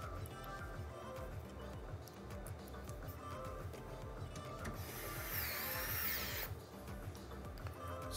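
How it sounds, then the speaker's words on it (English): A power drill or screwdriver drives screws to mount an AIO liquid cooler inside a Lian Li O11 Dynamic PC case, a steady close whirring with a louder high-pitched burst partway through, alone. "Just putting the screws on for the O11 now. I mean for the AIO."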